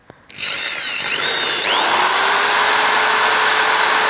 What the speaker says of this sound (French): C'est le perforateur Parkside.